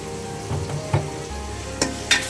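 Oil added to beef rezala frying in a pan, a close, steady sizzle with a few brief scrapes and clinks of stirring; no voices.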